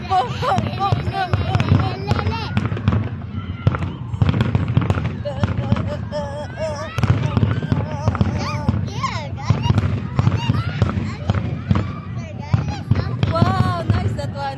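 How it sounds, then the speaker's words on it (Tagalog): Homemade fireworks going off in Capiz, a dense string of loud, sharp bangs and crackles repeating throughout, with people talking and exclaiming over them. "Mami, fireworks in Capiz. Homemade fireworks, eh?"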